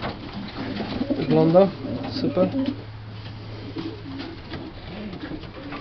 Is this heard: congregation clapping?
no